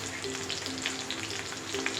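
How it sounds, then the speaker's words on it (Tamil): Mutton intestine frying with freshly poured egg in a pan for a kuzhi omelette, a dense, continuous crackling sizzle up close with faint stirring ticks, no voices. "நல்லா குடலோடு சேர்த்து ஊற்றுங்க."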